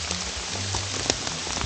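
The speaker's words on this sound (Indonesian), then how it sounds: "Akhirnya beneran hujan." Rain falling during a mountain hike on Gunung Slamet, a dense, steady patter of drops striking surfaces close by, continuous throughout with a few sharper nearby hits.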